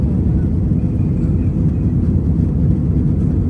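A steady, loud low-pitched roar of a jet airplane in flight from Bangkok to Malaysia, continuous and unchanging throughout with no other sounds.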